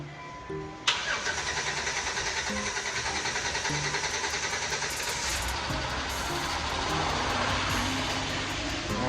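A rebuilt car engine cranks briefly and then fires up abruptly, settling into a steady, close, fairly loud idle with a fast, even pulse and no talking.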